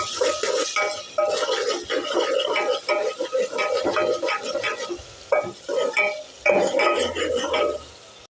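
Onion and ginger frying in hot oil while being stirred, a steady close crackling sizzle broken by repeated scrapes and clinks of a spoon against the pan.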